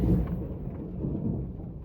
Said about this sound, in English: A little thunder in the background.